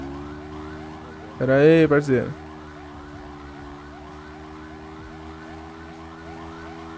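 Police car sirens from the video game GTA RP wail steadily through the whole stretch, several overlapping rising-and-falling tones at close to moderate range, briefly interrupted by a short burst of nearby speech.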